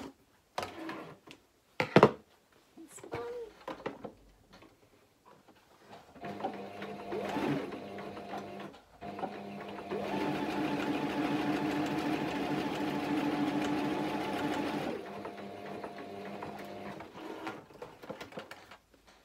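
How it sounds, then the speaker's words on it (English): Sewing machine stitching darts on a tailor's ham, a steady whirring run of about five seconds after scattered handling noises, with a shorter softer burst of stitching before it, close up with no talking. "Follow that drawn line all the way up. And then back stitch when I get to the top of my dart."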